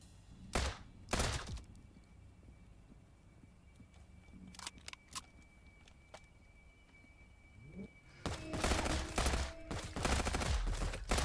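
Pistol fire in the video game Transience: a couple of loud separate shots, then sparse faint clicks and thuds, then a dense cluster of rapid shots near the end, close and sharp.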